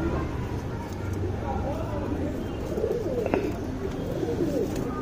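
A male pigeon in Bangalore coos in soft, repeated rolling phrases close by, with faint voices and steady background noise underneath.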